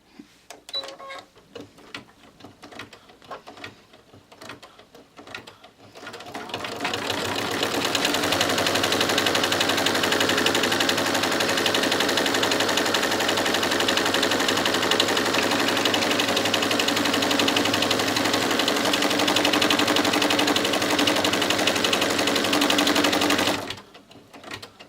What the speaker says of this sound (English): Just back in the machine. And now for color stop number 4 to tack in the top of the bag.